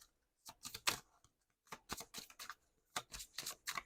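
Tarot cards being shuffled by hand in quick riffling bursts, crisp and close, with short pauses between several rounds of papery flicking.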